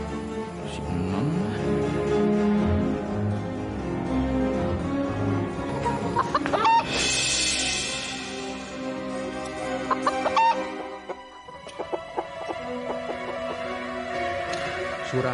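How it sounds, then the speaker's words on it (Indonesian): A chicken clucks repeatedly in a room, with a sharper squawking burst in the middle and faint voices talking in the background. "Saya masih dengar suara ayam, Karin."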